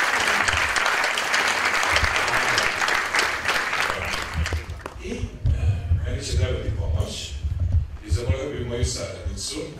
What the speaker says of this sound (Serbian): molim vas za nju jedan veliki aplauz